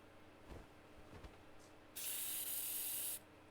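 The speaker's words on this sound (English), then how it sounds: "Abyss flavored pepper spray. Sleeping gas." A burst of pepper spray used as sleeping gas hisses out in a steady, loud spray lasting about a second, in AI: The Somnium Files, preceded by a couple of soft clicks.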